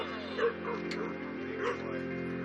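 A dog in a jail dog-training program for hard-to-adopt shelter dogs gives a few short barks and yips over a steady background hum, moderately close, with some faint voices in the room.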